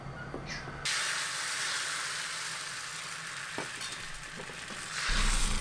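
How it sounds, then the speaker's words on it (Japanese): Beaten egg mixture poured into a hot, oiled frying pan for a Japanese rolled omelette, giving a sudden steady sizzle and hiss that stays close and even, then grows louder near the end. "卵を入れたときにジュワッと音がするぐらいまでよくフライパンを熱しておくとふわっとした卵焼きになります"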